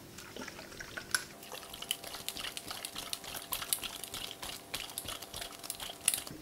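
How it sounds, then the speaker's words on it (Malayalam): A closed bottle of home-made beer mixture being shaken, liquid sloshing and splashing inside with irregular crinkly rattles, close and continuous. "അതിനുശേഷം ശരിക്ക് കുലുക്കുക, കാരണം ഇതൊന്നും കൂടി ശരിക്ക് കുപ്പിക്കകത്ത് ശരിക്ക് മിക്സാവണം."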